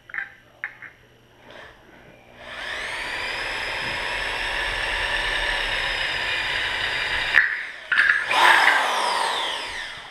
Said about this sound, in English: Now we'll drill it